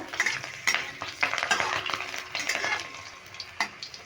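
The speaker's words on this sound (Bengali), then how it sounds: "এবার ফোড়নটা একটু নেড়ে ফেলে নেব" Bay leaf, whole green chillies and five-spice seeds sizzle in hot oil while a spoon stirs and scrapes the pan, with several sharp clinks against the metal over a steady frying hiss.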